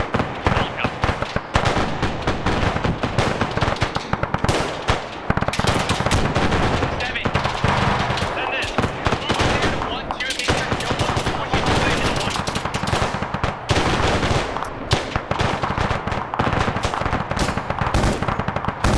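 Dense, continuous gunfire in a military video game, with rapid automatic bursts and sharp shots packed closely together. It is loud and nearly unbroken, with brief gaps and a faint voice in the background.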